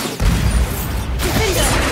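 Bombarda blasting spell cast in Hogwarts Legacy, a loud dense crash of game combat noise that stays heavy and continuous for two seconds.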